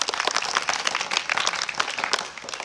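A classroom of students claps for a correct answer at a quiz competition in a government school in Bihar, with dense, uneven hand claps rising and falling across the whole span, fairly close and lively.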